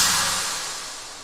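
A snare built from a sine, white noise and a Foley clap, with compression and distortion, rings out as a bright, hissy noise tail that fades steadily over about a second.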